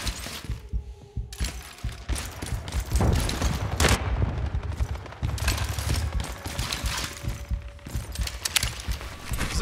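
SIG SMG bursts in the online shooter World War 3, dense rapid gunfire and impacts layered with other battle noise, steady and loud throughout, no talk.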